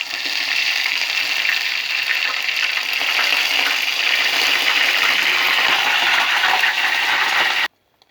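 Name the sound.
frying in hot oil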